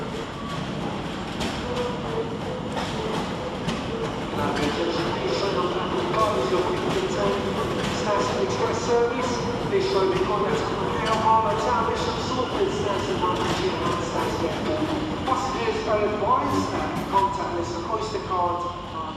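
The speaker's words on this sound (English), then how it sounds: "arriving to terminate with a London Overground service off Enfield Town is 710-120" A London Overground train from Enfield Town rolls into London Liverpool Street station, a continuous loud rumble and clatter of wheels and carriages with a station announcement voice over the noise.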